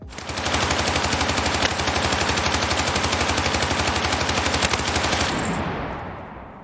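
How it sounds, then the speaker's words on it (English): A light machine gun in the Battlefield 6 game fires one long, unbroken burst of rapid shots for about five seconds, loud and close, then stops and a short tail rings out. "the first detail can be seen when firing this LMG for a long time"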